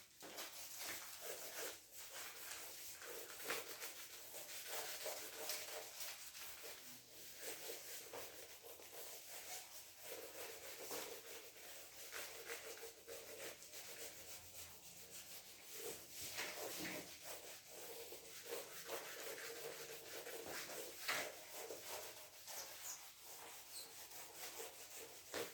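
Writing is being rubbed off a board, a faint, continuous scrubbing and rubbing of uneven strokes that goes on with no speech.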